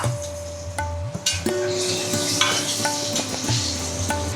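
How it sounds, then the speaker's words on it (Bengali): Potatoes frying in oil seasoned with salt and turmeric, a steady sizzle with several clinks and scrapes of a utensil against the pan, close and moderately loud with a low background hum. "এবার এই তেলের মধ্যেই আমি এই আলুটাও ভেজে নেব"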